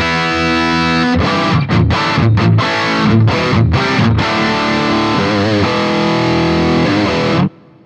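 An electric guitar plays heavily distorted chords and riffs through a BOSS GT-1000 effects processor, loud and sustained, with rhythmic strummed stabs before ringing out and cutting off at the end.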